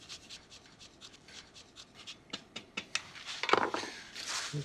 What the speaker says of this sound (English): that little rasp grater there really does well with the lemon zest that I'm putting in here